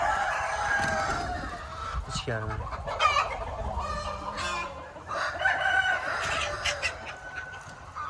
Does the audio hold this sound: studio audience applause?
no